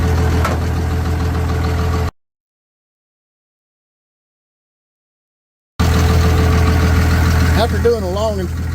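Old Dodge W300 truck that has sat for years runs with a loud, steady engine idle just after a gas tank replacement, the sound cutting out briefly and then returning, with people talking over it.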